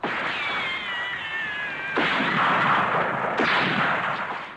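Gunfire volley from a 1962 comedy film: a sustained whine gives way to a loud, broad burst of shots at about two seconds, then a second heavy blast near three and a half seconds, with no talking.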